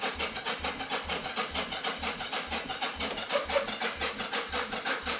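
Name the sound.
1983 Yamaha XZ550 Vision motorcycle cranking on weak battery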